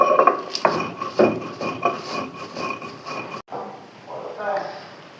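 Boiled taro and mustard pounded in a wooden mortar and pestle give dull, repeated thuds and knocks at close range, with a voice talking over part of it.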